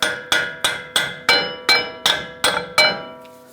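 A hammer taps the front axle of a 2011-2018 Ram 1500 truck during steering knuckle replacement: nine light, evenly spaced metallic strikes, each ringing briefly before the next, close and clear with no talk.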